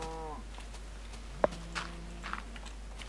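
Minecraft cattle give a single low, drawn-out moo near the start, followed by soft footsteps and faint game sounds in otherwise quiet surroundings.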